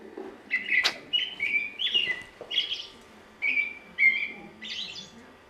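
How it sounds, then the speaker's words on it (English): A recorded crow call plays in a gallery room, a series of short harsh chirping calls repeating in quick bursts, moderately loud with a quiet background. "Okay, so that was the crow."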